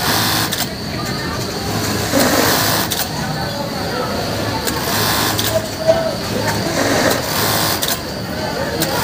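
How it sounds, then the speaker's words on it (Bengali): A bartack sewing machine runs in a busy garment factory, a loud continuous mechanical whir over the factory din, with people talking throughout. "ও বারটেক মেশিন চালাচ্ছে।"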